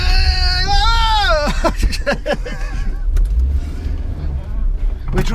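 A K11 Nissan Micra driving through the streets of Exeter, heard from close by: a steady engine drone with revs that rise and fall, carried on continuously for the whole stretch.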